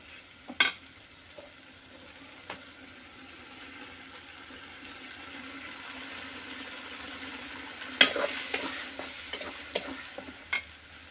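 Ginger, garlic and onion paste cooking in hot oil in a pan, a faint continuous sizzle with occasional sharp stirring clinks and scrapes of a spoon against the pan.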